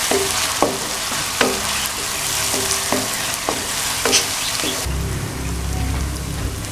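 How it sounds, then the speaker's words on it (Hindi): Ginger garlic paste sizzles with browned onions in a pan, a steady close frying hiss broken by stirring clicks, then a louder sizzle surge near the end. "अब मैं इसमें डालता हूँ 1 खाने वाले चम्मच अदरक और लहसुन इसका पेस्ट डाल देता हूँ।"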